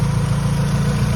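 An Acura Integra's swapped B18C1 GSR engine idles at close range, giving a steady, even low rumble with no change in revs.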